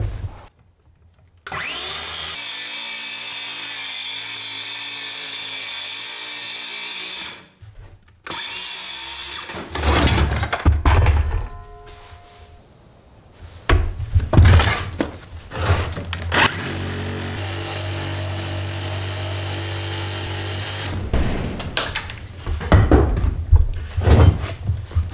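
Power tool cutting up through the floor of an old mobile home from underneath, loud close bursts of whining drilling and sawing broken by pauses, clunks and rattles of wood.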